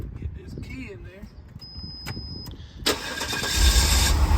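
Guanci SSJ prototype sports car engine cranks and fires up loudly near the end, after a stretch of quiet clicks, key jingles and a beep inside the car.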